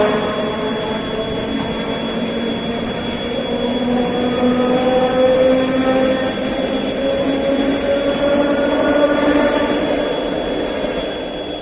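A train rolls past close by in St. Petersburg, a loud continuous rumble with rising metallic wheel squeal and tonal whine that holds steady for the whole stretch, with no talking.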